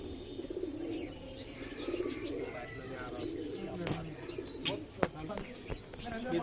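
High flyer pigeons coo and call in low, soft bursts against a steady bird-filled background, with someone talking in Hindi over them throughout.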